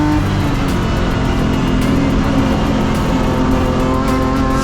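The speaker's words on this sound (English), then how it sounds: "right into the clutches of Reinhard Miller as they start the next lap and complete lap number 6 of 10." BMW race cars roar around the Zwartkops circuit during a race, with a loud, continuous, dense engine drone from several cars running together and no break.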